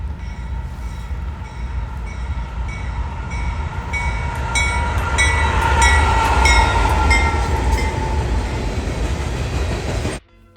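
A freight train passes on a busy mainline, its rumble and rolling wagons loud and close, swelling toward the middle with some metallic squeal before cutting off abruptly at the end.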